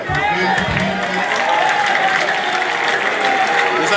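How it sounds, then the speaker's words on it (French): A large crowd at a public gathering cheers and applauds steadily and loudly, a dense continuous roar of clapping and shouting with some voices rising above it throughout. "les acclamations qui fusent"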